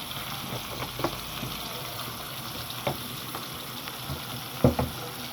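Cumin powder and chili powder fry quietly in a pan, giving a soft steady sizzle with a few light taps and clinks from stirring, the loudest near the end.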